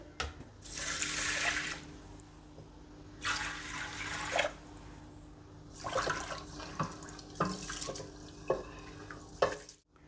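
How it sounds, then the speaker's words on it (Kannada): Rice and toor dal rinsed under running tap water in a kitchen, several bursts of hissing water flow separated by pauses, with swishing and dripping between them, nearby and without speech. "ಅಕ್ಕಿ ಬೇಳೆನ ತೊಳೆದಿದ್ದಾಯಿತು"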